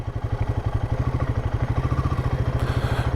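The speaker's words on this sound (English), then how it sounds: "Familiar sound of a single cylinder engine there, but this one of course now liquid cooled" A 2024 Royal Enfield Himalayan 450's liquid-cooled single-cylinder engine thumps in a steady, even pulse at a fairly low volume, with no speech over it.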